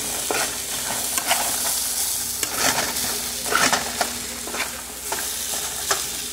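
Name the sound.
fried rice sizzling and being turned in pan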